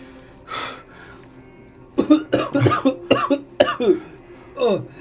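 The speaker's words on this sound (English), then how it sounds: "we're just like coughing" Several harsh coughs come in quick succession, loud and close, after a brief breathy sound; a short wheezy breath follows at the end.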